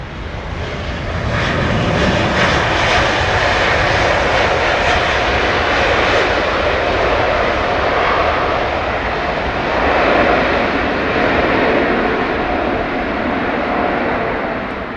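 A jet airliner lands at London Heathrow with a loud, steady roar of engines and rushing air that fills the whole stretch, close and continuous with no talk.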